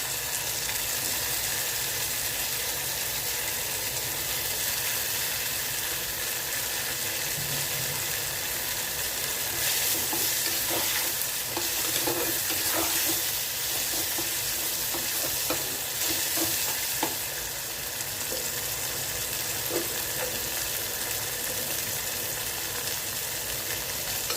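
Garlic sautéing in a pan for bitter gourd kuzhambu, giving a loud, dense, unbroken sizzle with scattered stirring scrapes throughout, close up and without talk.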